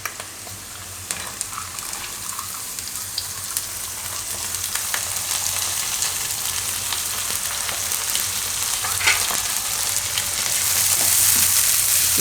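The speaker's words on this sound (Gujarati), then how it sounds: "તો આ ડુંગળીમાં આપણે હવે નાખી દઈશું દાળ આ પલાળેલી." Soaked dal goes into onions already frying in a pan for dudhi dal pulao. A constant, fairly loud sizzle runs throughout and swells slightly toward the end.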